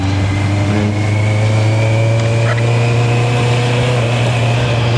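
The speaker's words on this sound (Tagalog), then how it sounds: "tunog ng CBR 650R na stock pipe" A stock Honda CBR650R inline-four with its factory exhaust pipe runs loud and close outdoors, holding a steady, smooth high-revving engine drone with a strong low hum.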